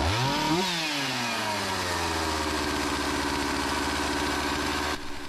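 A chainsaw engine, freshly adjusted at the carburetor, revs briefly then settles into a fast, steady, loud idle drone close by that runs on for several seconds.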